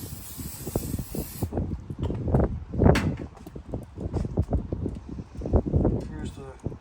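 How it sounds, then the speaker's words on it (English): Olive oil is sprayed onto the rack of a Lone Star Grillz smoker in short hissing bursts, close by, mixed with clanks and someone talking throughout. "I'm going to spray the rack here with olive oil."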